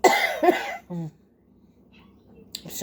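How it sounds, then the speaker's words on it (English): A person coughs twice at close range, harsh bursts followed by a throat-clearing sound, then quiet breathing before another noise at the end. "I'm coughing."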